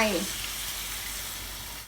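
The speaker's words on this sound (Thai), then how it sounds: "หลังจากนั้นเราก็จะใส่น้ำล้างคกนะคะ ลงไป" Rice-washing water is poured into a hot pan of Thai pork bone curry, a brief opening splash settling straight into a steady, close hiss and sizzle.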